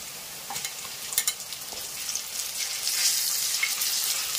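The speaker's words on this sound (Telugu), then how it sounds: "అల్లం వెల్లుల్లి పేస్ట్ అయితే వేసుకోండి." Ginger garlic paste fries with browned onions in a pan, a steady bright sizzle with a few short clinks and stirring taps, fairly close and continuous throughout.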